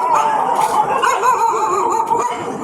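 Dogs at a sanctuary in Chonburi, Thailand, many of them disabled, keep up a dense, steady chorus of barks, yips and whimpers through the whole clip, some close and some further off, with no talk.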